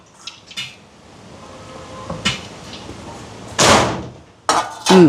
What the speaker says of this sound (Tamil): ஜன்னல் அடிக்குது